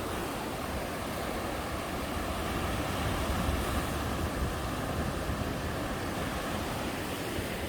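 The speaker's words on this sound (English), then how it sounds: "I love the sound of the water" Ocean waves roll onto a beach in Phuket, Thailand, a steady, dense roar of surf and wash with some wind rumble, continuous and fairly loud throughout.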